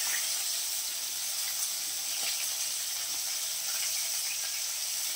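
Tilapia fish frying in oil in a pan, a steady soft sizzling hiss that holds level throughout with no talk.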